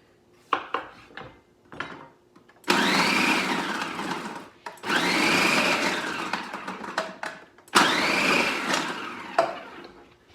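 A food processor chops butternut squash for a fall soup in three long, loud whirring runs, each starting and stopping abruptly, with scattered clatter of pieces and the bowl between runs.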